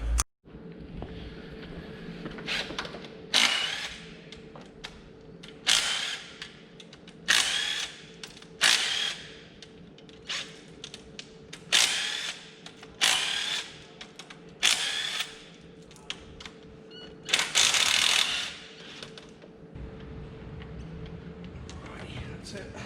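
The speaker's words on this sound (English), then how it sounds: "we'll start pulling off the timing cover now" Power tool zipping out timing cover bolts on an LS3 V8 engine during a camshaft swap, about a dozen short whirring bursts separated by pauses, close and fairly loud.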